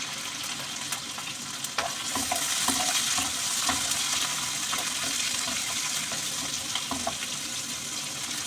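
Green chillies and garlic frying in a pan, with a steady broadband sizzle throughout and occasional stirring clicks and scrapes, loud and close with no talking.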